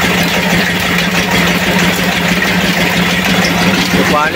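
A diesel engine drives a village flour mill grinding wheat into flour, chugging steadily and loudly through the whole stretch with a constant low hum and dense mechanical clatter.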